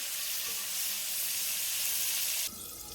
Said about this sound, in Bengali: কড়াতে তেল দিয়ে দিয়েছি আর এদিকে পটলে আমি নুন হলুদ মাখিয়ে নিয়েছি, তুলে দেবো। দিয়ে পটলটা ভালো করে ভেজে নেব।